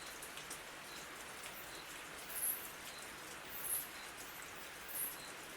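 Steady jungle rain hisses as a dense, even wash, with a few brighter patters of drops rising briefly every second or so; no voices.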